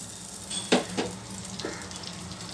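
Butter melts in a hot pan for a tempering, giving a soft, steady sizzle punctuated by a few sharp clinks and scrapes of utensils against the pan, close and fairly quiet.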